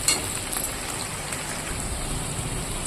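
Steady rain falls outside, a dense, even hiss of drops hitting surfaces that holds for the full stretch with no voices over it.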